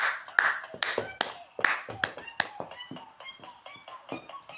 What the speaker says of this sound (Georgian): ტაში დაუყარეთ ჩემშვის